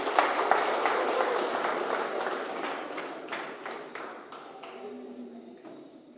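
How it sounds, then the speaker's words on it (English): A town hall meeting audience gives a round of applause for a speaker, with dense clapping and tapping that holds steady and then slowly fades. "Let's give him a round of applause."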